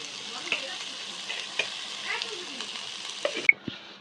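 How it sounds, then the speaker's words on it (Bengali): A spoon stirs fried shrimp and lentil bori into taro greens for a Bengali ghonto, scraping with soft sizzling and irregular clinks against the pan, close and moderately loud with no talk. "এইগুলোকে আমরা ভালো করে কচু শাকের মধ্যে মিশিয়ে দেবো"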